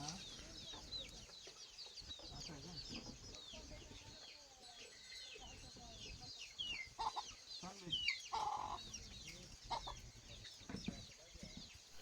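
Hens and chicks cluck and peep continuously on a farm with a scenic rural setting, a busy close flock with occasional louder calls and faint voices talking in the background.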